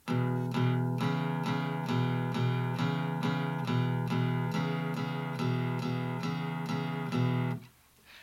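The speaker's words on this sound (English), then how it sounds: "playing the sixth and fifth strings together" Low guitar strings, the sixth and fifth played together, are picked in a steady back-and-forth rhythm, each note repeated, a chugging accompaniment pattern that stops abruptly near the end.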